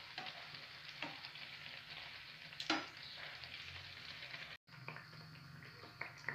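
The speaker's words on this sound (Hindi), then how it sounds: "उलट पुलट करते हुए हम इसे ब्राउन होने तक सेक लेंगे" Malpua, pancakes made from wheat flour batter, sizzle steadily in hot oil in a pan over a medium flame, with a few soft clicks and scrapes as they are turned over.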